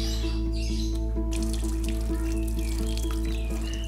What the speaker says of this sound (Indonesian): Sebelum kerja, Akang Tony cuci tangan dulu, biar higienis katanya